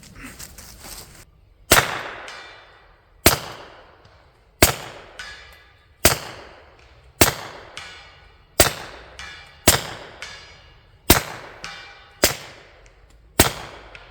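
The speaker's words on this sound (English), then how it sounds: "So I'm going to take some shots." A .22 rifle fitted with a Gemtech GM-22 suppressor fires about ten shots of Thunderbolt ammunition at a target roughly 80 to 90 yards off. Each shot is a sharp, loud crack, spaced one to one and a half seconds apart, with brief decay.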